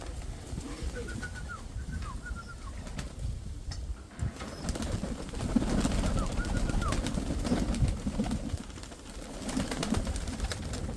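Pigeon cooing in short repeated phrases amid a busy outdoor backdrop, with other birds and a voice talking nearby, plus occasional wing flaps.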